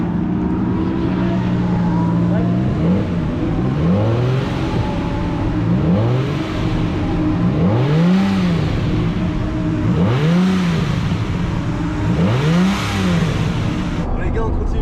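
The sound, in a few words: Lamborghini Diablo 6.0 V12 engine revving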